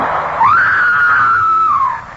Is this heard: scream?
yes